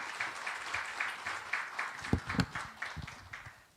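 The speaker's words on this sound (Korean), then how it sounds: "다시 한번 박수로 인사드리겠습니다" Audience applause following a university guest lecture in a hall, a dense patter of clapping lasting a few seconds with a couple of louder bursts, no talk over it.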